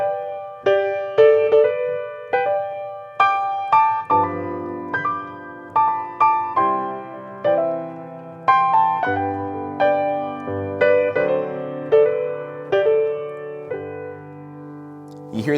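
Solo piano playing a song in country style with slip-note harmony, a smooth melody with a harmony note above it and bending grace-note slurs over steady chords, clear and close with no talking.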